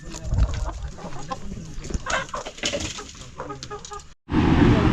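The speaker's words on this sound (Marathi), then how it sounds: "इकडे बरेचसे कोंबडे आहेत बघा." Village chickens and roosters at a market cluck and squawk in quick irregular bursts nearby, the noise cutting out briefly before a louder din resumes.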